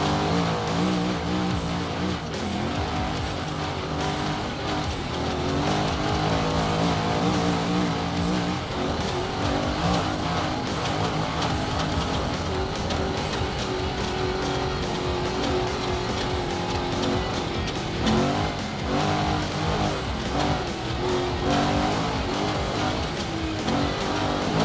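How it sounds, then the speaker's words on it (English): A trophy truck tears past at full speed during the Finke Desert Race in the Australian outback, its loud engine roaring continuously with rising and falling revs and no voices over it. "So Justin just come past, Justin and Jamie in the trophy truck."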